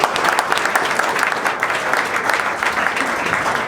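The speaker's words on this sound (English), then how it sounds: "Round of applause there." A crowded audience bursts into steady, dense applause, loud and close, sustained without pause.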